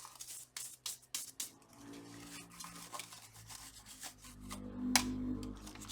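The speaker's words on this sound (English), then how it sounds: "Now the keyboard, let's clean it a little bit also." A Dell Inspiron 3531 laptop keyboard is cleaned by hand, giving soft rubbing and brushing strokes mixed with light plastic taps and scrapes, quiet and close, in irregular bursts with no talking.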